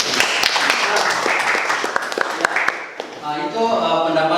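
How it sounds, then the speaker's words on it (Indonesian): Students in a classroom clap for a classmate, a short burst of close hand claps that fades out after a few seconds as a voice starts speaking. "Coba tepuk tangan dulu buat."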